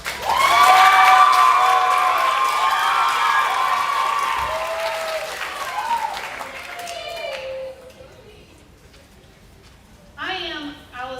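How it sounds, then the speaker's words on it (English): Audience applause at a junior high school awards night and eighth grade promotion ceremony, a loud sustained wash of clapping that fades over several seconds, with a voice speaking briefly afterward. "Let's give a big round of applause, Mrs. B."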